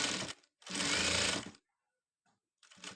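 A sewing machine stitches a school uniform collar in two close bursts of fast, steady running, with a pause between them and a third burst starting at the end.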